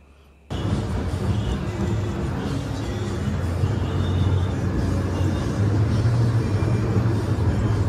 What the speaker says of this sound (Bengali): ট্রেনে ঘুরতে বেশ মজাই লাগছিল